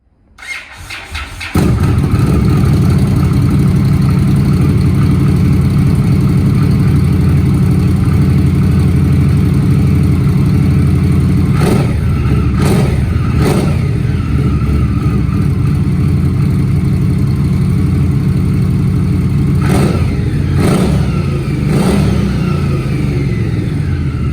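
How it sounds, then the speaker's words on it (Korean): An Indian Scout motorcycle engine starts and settles into a loud, steady idle, with a few sharp revs rising and falling partway through, very close. "엔진 사운드도 들어보겠습니다."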